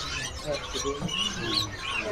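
An oriental magpie-robin sings at a bird seller's stall, its brief high chirps and whistles faint against a busy, noisy background.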